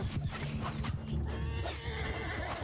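Horse neighing and whinnying amid hoof clip-clops in a Mount & Blade II: Bannerlord battle, the calls loud and close over a steady layer of game noise.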